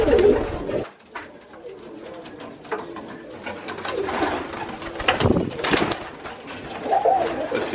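Pigeons in a loft during mating, repeated soft throaty coos close by, with fluttering and rustling between calls and no talking.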